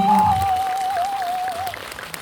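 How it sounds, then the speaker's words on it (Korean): A cinema audience at a Korean independent film screening and talk applauds the arriving director in a soft, steady wash of clapping, with a thin sustained whistle-like tone riding over the first part before fading. "박수 부탁드립니다."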